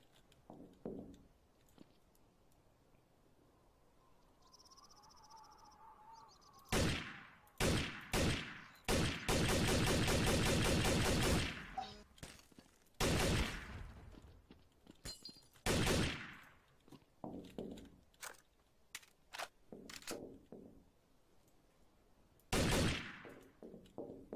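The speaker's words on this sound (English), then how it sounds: "because you were shooting and blowing up stuff" Gunfire and explosions in Garry's Mod Trouble in Terrorist Town, with sharp shots crackling in bursts, one long rapid volley in the middle, and scattered single blasts, loud and close with no talk.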